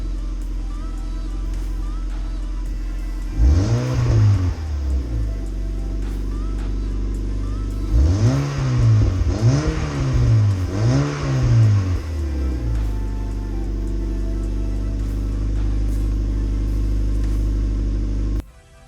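A Mazda MX5 fitted with a new exhaust and intake idles steadily, then revs sharply once and in a quick series of three blips, loud and close before settling back to idle.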